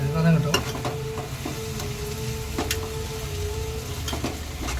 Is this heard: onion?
yes